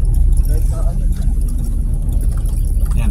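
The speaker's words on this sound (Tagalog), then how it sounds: "puno ng sasakyan." Steady road traffic on a busy street in Calamba near a road-widening site, a continuous loud low rumble of car engines close by with no clear individual pass-bys.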